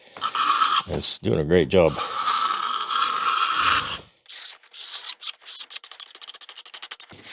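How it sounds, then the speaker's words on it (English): A knife held perpendicular to a wooden surface, scraping in rough, repeated strokes, then a series of short rapid rasping scrapes, close and fairly loud, with someone speaking briefly between the strokes. "I'm holding the knife very perpendicular to the surface to make it scrape instead of cut."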